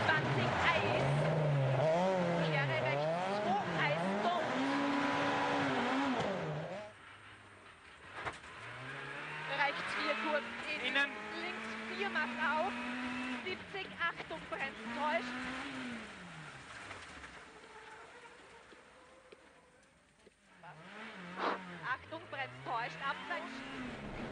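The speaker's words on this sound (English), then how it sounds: "He's in a Super 2000 car for the very first time, sliding all over the place, even on his special studded winter tyres." A Super 2000 rally car on studded winter tyres slides through the Jännerrallye stages, its engine revving up and down in repeated swells while a commentator talks over it.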